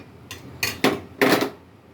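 Dishes clatter as peanut chutney is moved into another bowl: a few sharp, close clinks and knocks of bowls and a spoon, spaced unevenly over two seconds, with no talking.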